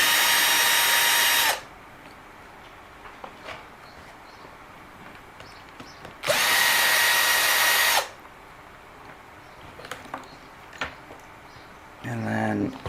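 A power screwdriver whirs in two long bursts, backing out the rear wing screws on an Eachine EAT11 RC car, with a shorter burst at the end and quiet handling clicks between.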